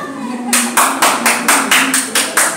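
Congregation at a church service claps in acclamation to the Lord, eight loud, steady, evenly spaced claps sounding together in rhythm after a brief pause.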